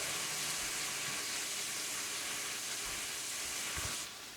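Food frying loudly in a pan on a home stove, a steady broadband sizzle and hiss close up with a few soft low bumps, easing slightly at the end.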